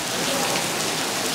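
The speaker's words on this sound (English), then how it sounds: "It is seriously raining, coming down in sheets." Heavy rain pours down in sheets at night outside a hotel complex, a dense, loud, steady hiss of drops hitting surfaces with no gaps and no voices.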